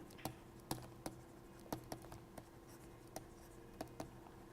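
Chalk or pen writing during a math lecture on group theory, a quiet series of sharp taps and scratches at an uneven pace, faint and close, without talking.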